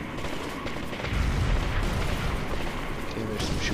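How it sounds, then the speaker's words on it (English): Gunfire and explosions in a first-person shooter game, a dense rumbling barrage of booms and bursts with a swelling low roar, continuous and moderately loud. "There's some shooting going on at the base."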